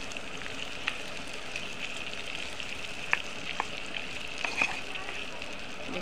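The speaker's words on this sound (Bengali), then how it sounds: "দেখুন একটু ভালো করে সটে করে নিচ্ছি হালকা করে।" Red capsicum and chicken sauté in a pan with a gentle, fairly quiet sizzle and a few light clicks of a spatula, and a voice speaks faintly over it.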